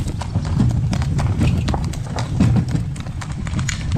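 Steady, close clip-clop of a calm older mare's hooves pulling a cart, a brisk even rhythm of loud hoof strikes on a rural road throughout.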